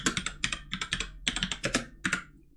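Keys clatter on a computer keyboard as a customer name is entered into a web app, with quick uneven bursts of close, crisp clicks broken by short pauses, heard alone with no voices.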